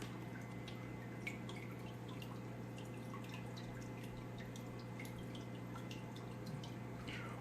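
Water agitates the surface of an African cichlid aquarium, giving constant close trickling and dripping over a steady low hum from the equipment.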